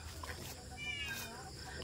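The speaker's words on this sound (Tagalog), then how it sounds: "ang iingay ng aming mga pusa." Cats meowing outdoors, a few short cries mixed with a low rumble of background noise and some indistinct voices.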